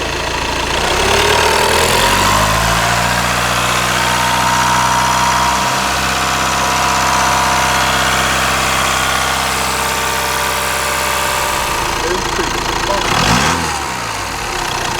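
A Volkswagen Passat or Audi A5 car engine with engine problems idles with a steady, loud rumble that shifts pitch slightly near the end, a low mechanical hum filling the whole stretch.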